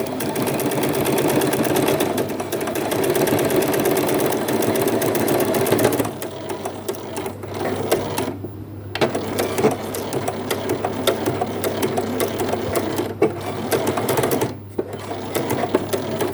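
Sewing machine stitching the edge of a bag, a loud, fast, continuous mechanical whir with a steady rapid clatter and a couple of short pauses, close up and alone.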